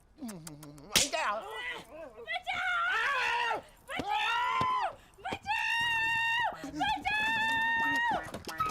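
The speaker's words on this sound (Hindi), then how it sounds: "चिल्ला क्यों रही है?" A woman in a Hindi comedy film screams in several long, shrill bursts after a sharp slap-like crack, with a voice briefly between them, close and loud.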